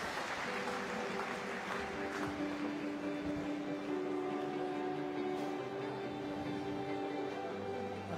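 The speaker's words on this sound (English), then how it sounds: "Ladies and gentlemen, a round of applause for your medalist." Applause for a medalist at a world para swimming championship in Glasgow, a steady, distant wash of clapping filling the arena throughout, with a faint tonal hum underneath.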